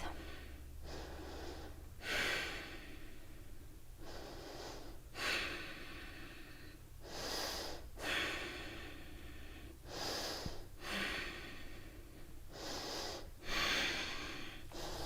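Heavy, rhythmic breathing during a vinyasa yoga flow, with about a dozen deep, forceful breaths, each a loud rushing burst separated by short pauses, near and clear with no talk.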